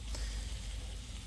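Food sizzles gently in a tiny fry pan over low heat, a soft, steady crackle heard close with no talking.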